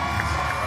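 Spectators at a 24-hour mountain bike race cheering a rider, a short loud burst of crowd noise and shouting with low rumble.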